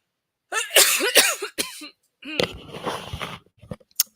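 A person coughs in several harsh bursts, a close cluster followed by a longer rough fit and a few smaller catches, loud and near with no talk.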